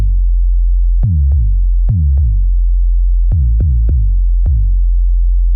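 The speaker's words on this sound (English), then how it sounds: "So this is an 808 with a big punch up front, and then it's got some subtle motion as it sustains." An 808 preset on a SOTA 3-1 Operator synthesizer plays seven deep, booming bass hits in an uneven rhythm, each with a sharp punchy attack and a short decaying sustain.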